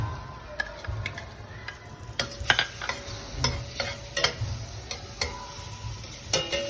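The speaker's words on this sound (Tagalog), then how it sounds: "isasunod na natin yung ating bawang" Minced garlic frying in melted butter for butter prawns, a steady sizzle under sharp stirring scrapes and clicks of a utensil against the pan, close and fairly loud, with no voices.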